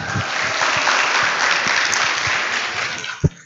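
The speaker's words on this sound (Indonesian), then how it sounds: "Beri tepuk tangan lagi dong untuk adik kita." At a provincial authors' gathering in East Kalimantan, an audience claps for a young performer. Continuous, fairly loud clapping runs under a few scattered voices, thins out, and ends with a sharp bump near the end.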